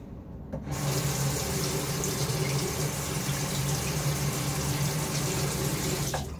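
Bathroom tap running steadily to rinse a shaving razor, a continuous close rush of water that starts abruptly and stops near the end, with no talk.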